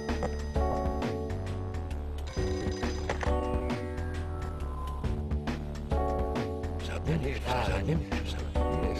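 A telephone bell keeps ringing in the video game Flower, Sun and Rain in repeated bursts, mixed with game music and sound effects throughout.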